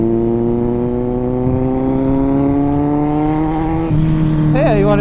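A 2023 Kawasaki Z900 inline-four motorcycle engine revs steadily upward, its pitch rising continuously before a sharp blip and quick throttle stabs near the end, loud and close.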